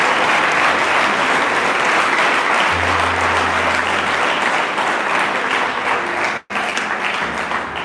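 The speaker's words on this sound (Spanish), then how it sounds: "Vamos a dar un fuerte aplauso al Señor." Church congregation applauding loudly for the Lord at a general worship gathering, a dense, steady roar of clapping that fills the room continuously, with one brief dropout near the end before it resumes.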